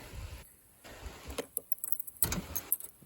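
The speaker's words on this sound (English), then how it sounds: "Nice opening trunk." The trunk of a 1990 Chevy Lumina is opened with a jangle of keys, then a series of quiet mechanical clicks and clunks from the latch and lid, close by.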